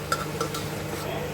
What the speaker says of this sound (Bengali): এবার ভালো করে চালটাকে আমাদের ভাজতে হবে।